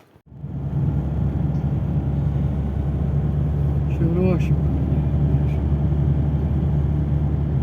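A Citroen Berlingo is driving on a road, with a steady, loud low engine and tyre rumble that continues throughout and a brief voice partway through.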